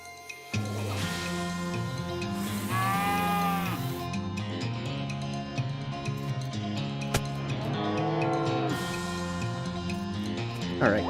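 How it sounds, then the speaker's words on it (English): Cattle mooing in the video game West of Loathing, several long, drawn-out moos rising over a steady backdrop of game music, loud and close, with a sharp hit sound partway through. "there's no way past these cows except through these cows."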